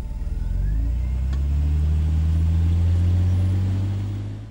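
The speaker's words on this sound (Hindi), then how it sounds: "चल गाड़ी स्टार्ट कर।" A car engine turns over and catches, then revs up into a steady, loud low drone that holds close by until the end, with no talking.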